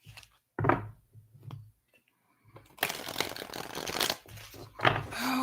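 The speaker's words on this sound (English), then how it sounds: "Oh, that was a very satisfying shuffle." A deck of cards shuffled, with a few soft taps and riffles first, then a long dense riffling flurry at close range, and quiet pauses between.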